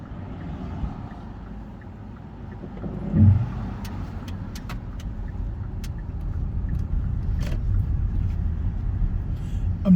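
Learner car during a driving lesson in Horsforth, Leeds, a low steady engine and road rumble from inside the cabin, gradually building as it pulls away and turns, with faint clicks and a soft thump.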